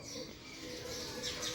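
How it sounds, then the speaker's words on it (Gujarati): Small birds, sparrows among them, chirp and coo faintly outdoors on a sunny morning at a Gujarati family home, their calls thin and distant over a steady low hum. "ચકલીઓ બોલી રહી છે"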